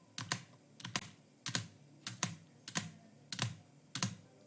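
A computer keyboard clatters while someone plays a parkour game. Sharp keystroke bursts, often doubled, repeat at a steady pace of roughly one every half second, loud and close with no talking.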